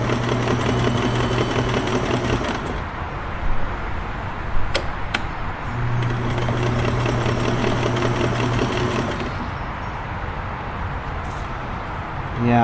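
A Kenmore 1410 sewing machine runs and stitches in a steady mechanical hum with rhythmic needle chatter, stopping and restarting, with occasional clicks and a voice speaking briefly.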